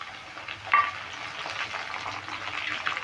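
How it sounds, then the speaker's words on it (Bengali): Chopped tomatoes land in a pan of spice mix frying in oil for a banana-flower curry, giving a steady soft sizzle with a brief louder burst and stirring scrapes, no voices. "এবার দিয়ে দেবো কেটে রাখা টমেটো টমেটোগুলো দিয়ে দিচ্ছি"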